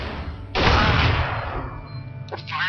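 Video game gunfire erupts as a dense burst of shots, loud and close, running for about a second before trailing off, with a brief clatter near the end.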